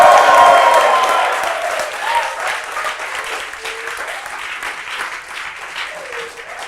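Live audience in a hall bursting into loud applause and cheering at a talk about electrification and autonomous driving, a dense wash of clapping that starts strongest and tapers slightly while staying steady throughout.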